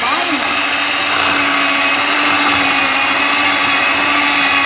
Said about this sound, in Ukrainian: Збиваємо тепер з гарбузом рівно 3 хвилинки.